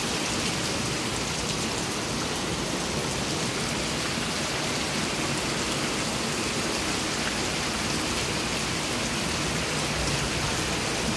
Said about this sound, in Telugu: ఈ వర్షంలో తడిస్తే కూడా మంచిదేనంటండి